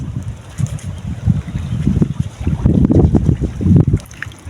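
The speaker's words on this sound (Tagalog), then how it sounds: "Puro hangin lang po ang maririnig mo dito." Steady wind gusting over open sea near a small boat on a catch-and-cook fishing trip, rumbling and buffeting the microphone in uneven low surges, with water sloshing faintly underneath.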